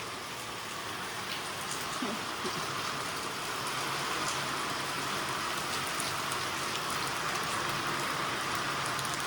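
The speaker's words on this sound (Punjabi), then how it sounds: "ਇੰਨਾ ਮੀਂਹ ਆ ਇੰਨਾ ਮੀਂਹ ਆ" Heavy rain pours steadily on a village at risk of flooding, a dense continuous hiss of drops drumming on surfaces with no voices.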